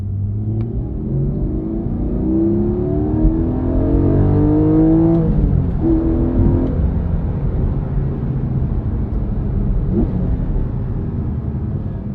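A Porsche 718 Cayman GTS engine accelerating hard, a loud close rising growl that climbs through the gears, with brief drops between shifts, then a steady rumbling drone. No voices.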